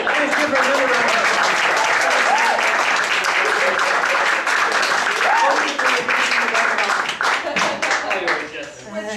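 Audience applause at a live improv comedy show, dense loud clapping from a crowd with a voice talking over it, tapering slightly toward the end.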